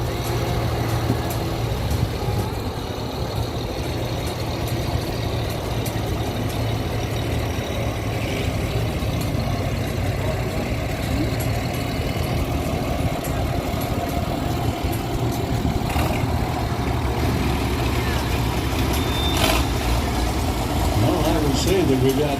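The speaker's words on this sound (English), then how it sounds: "Jerking its way down the track." An antique tractor engine drones and chugs steadily at a distance during a tractor pull, with announcer-style talk over it and some background crowd noise.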